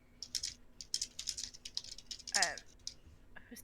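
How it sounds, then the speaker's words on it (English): Rapid keyboard typing clicks in a quick, irregular patter over several seconds, fairly close, with a brief spoken voice cutting in partway through. "Who's typing?"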